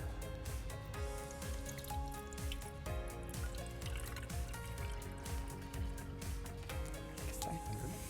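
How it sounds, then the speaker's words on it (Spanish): Water poured into a metal can during a classroom science demonstration, a steady trickling fill under continuous background music. "Vamos a poner un poco de agua dentro de la lata."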